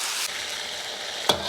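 Spices, soaked star anise among them, fry in hot oil in a wok, a steady close sizzle broken by one sharp scrape of a spatula near the end, with no voices.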